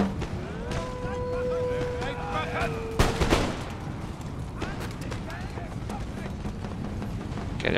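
Musket volleys crackle through an Empire: Total War battle with Austria fighting Prussia, a dense ragged burst of gunfire mid-clip over constant battlefield rumble, while someone talks over the action.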